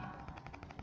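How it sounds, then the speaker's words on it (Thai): Rapid machine gun fire in the Kamen Rider Climax Heroes video game, a quick steady stream of shots under a dense, continuous game soundtrack. "ยิงรัว"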